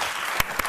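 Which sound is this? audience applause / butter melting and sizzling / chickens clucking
audience applause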